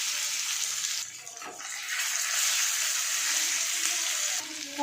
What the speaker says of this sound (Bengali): এখন দিয়ে দিচ্ছি সেদ্ধ কচু শাক।